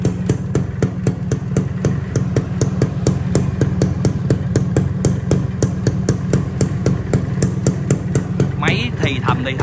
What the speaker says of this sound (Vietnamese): Đây là cái tiếng re re của lò lồng lỗ nè mọi người, để cho mọi người nghe luôn.